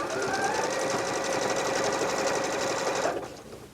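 A Bernette b38 sewing machine runs a wider utility stitch, a steady, close, fast mechanical whirring and needle chatter that holds for about three seconds before stopping abruptly.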